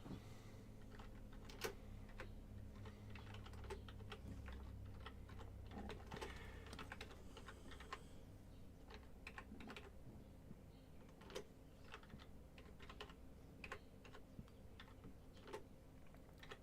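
Keyboard typing at a desk during a live miniature-painting session, a steady run of light irregular clicks and taps at moderate distance over a low background hum, with no talking.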